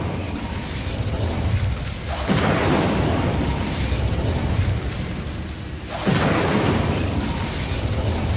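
Fire spell cast twice in Hogwarts Legacy, each a sudden loud whooshing roar of flames that rises abruptly and holds over a steady game ambience, the second burst arriving a few seconds after the first.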